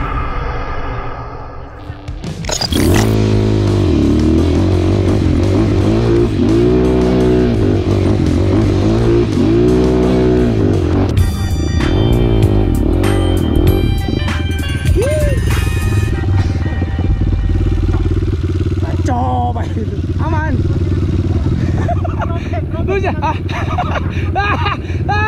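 A Kawasaki KX dirt bike engine held at full throttle on a trail ride, loud and close. It drones continuously with wavering pitch, and excited voices shout over it.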